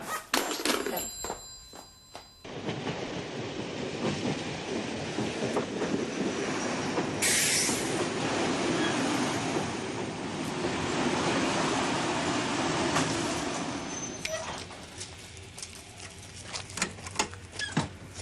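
A train rumbles along steadily for a long stretch, wheels clattering, with a telephone-like bell ringing at the start and brief high squeals midway.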